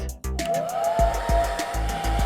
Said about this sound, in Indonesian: katanya kamu bisa memasak telur pakai pengering rambut